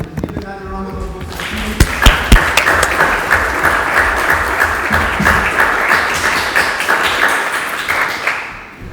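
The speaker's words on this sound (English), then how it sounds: "Give another round of applause." An audience at a democracy celebration closing event claps loudly and continuously for several seconds, a dense wash of clapping that fades near the end, with a voice briefly heard at the start.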